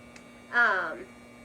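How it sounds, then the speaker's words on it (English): A clothes dryer's buzzer sounds once, a short, moderately loud tonal beep that rises and fades within half a second over a steady low electrical hum in an indoor room. "that's my dryer going off"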